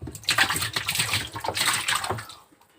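Water rushes and splashes out of a washing machine's drain during a repair for a machine that would not drain, a steady gushing flow that fades out near the end.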